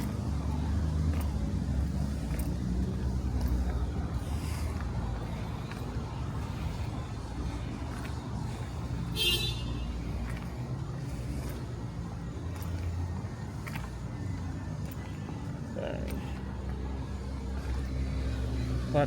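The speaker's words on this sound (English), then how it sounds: "Lots of moving trucks." Vehicles and moving trucks roll past on a busy Allston street along Commonwealth Avenue, a steady low traffic rumble with engines swelling and fading throughout.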